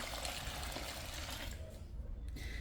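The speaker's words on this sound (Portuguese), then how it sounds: "Vai entrar um pouco mais de água aqui, e aí eu vou lavar esse balde." Water runs steadily into a bucket while a homemade jabuticaba detergent is being mixed, a broad continuous rush that thins out near the end.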